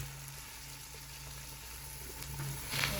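Meat frying in a pan for a Sunday non-vegetarian home meal, a steady close sizzle and bubbling that swells slightly near the end, with no talking.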